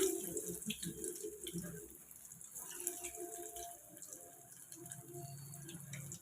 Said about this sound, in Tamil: எண்ணெய் சூடாயிடுச்சு. இப்போ வாங்க நம்ம ஒரு வடையாக போட்டுக்கலாம்.